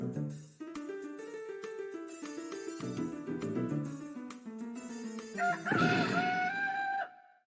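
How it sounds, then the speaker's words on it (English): Giant chicken in the video game Breath of Fire III, a loud clucking, crowing call that breaks in near the end over a bouncy game melody. "Oh, and a big giant chicken."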